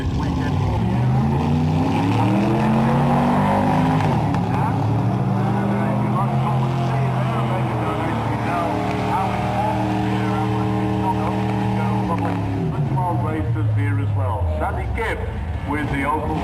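A drag race car rolls through the lane at a raceway, a loud sustained engine drone rising and falling in pitch, with an announcer talking over it throughout.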